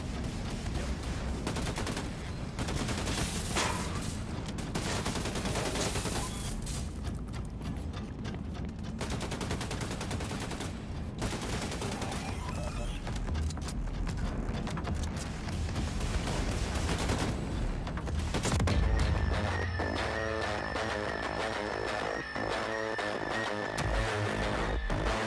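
Dual-wielded rifle and submachine gun in Wolfenstein II: The New Colossus, with dense, sustained gunfire and busy combat noise running loud and unbroken for about twenty-five seconds, shifting to a different mix near the end.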